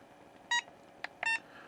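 A Hobbymate D6 DUO PRO battery charger gives two short electronic beeps close by in a quiet room, with a faint click between them.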